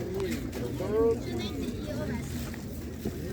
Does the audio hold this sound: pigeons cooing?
yes